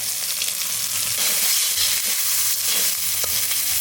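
Chopped tomato, cashews and raisins fry in hot oil for dal, giving a loud, close, dense sizzle with faint stirring throughout.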